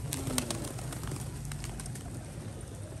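Pigeons coo softly in low, throaty murmurs against a faint outdoor background, with a few light taps and rustles.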